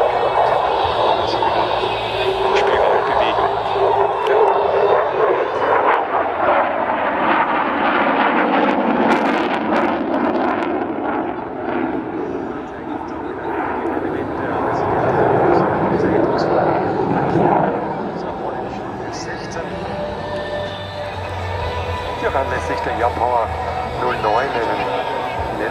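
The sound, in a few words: F-16 Fighting Falcon jet flying solo display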